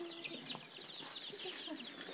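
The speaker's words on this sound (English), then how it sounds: "a whole bunch of different chickens in here." A flock of mixed chickens clucks and chatters continuously at close range inside a coop, with no voices.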